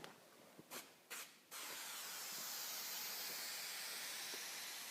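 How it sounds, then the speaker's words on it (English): Spray adhesive from an aerosol can onto a wall and a drywall bullnose corner bead: three short hissing bursts, then one long continuous spray hiss, close and steady. "we're going to use a bit of spray adhesive on both the wall and the corner bead"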